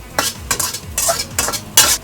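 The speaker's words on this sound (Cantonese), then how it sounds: "我哋用慢火大約煎香咗3分鐘左右啦" Lobster and ingredients fry over low heat in a pan, with a steady sizzle broken by repeated sharp scrapes and stirs of a utensil against the metal, close and fairly loud.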